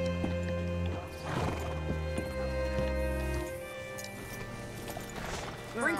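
In Red Dead Redemption 2, a horse whinnies and its hooves clop along at a steady pace, layered over a sustained musical backdrop with a ticking rhythm.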